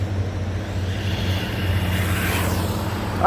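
Loud road traffic roars steadily nearby as a continuous low rumble with a brief rising whoosh of a passing vehicle near the end, heard without any talking.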